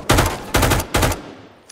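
Three loud, close bursts of automatic gunfire in the VR shooter Firewall Ultra on PSVR 2, each rapid volley lasting about a quarter second with short gaps between, fading into quiet afterward.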